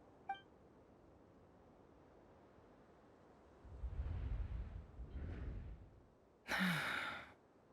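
A woman's breathy gasp from a Genshin Impact cutscene: soft airy breaths build over a couple of seconds, then a sharp, brighter intake of breath near the end. No speech.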